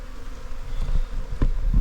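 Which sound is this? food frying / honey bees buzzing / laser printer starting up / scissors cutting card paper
honey bees buzzing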